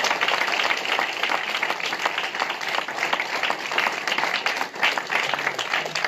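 A church congregation breaks into sustained, dense applause during a sermon, many hands clapping together in a loud, continuous roar with a faint crowd murmur.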